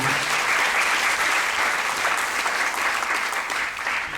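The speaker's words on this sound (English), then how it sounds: "give her another round of applause for that" A crowd applauds steadily, a dense wash of clapping that holds throughout and tapers slightly at the end.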